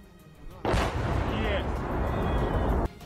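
A loud, close artillery blast bursts in suddenly and roars heavily for about two seconds before cutting off abruptly.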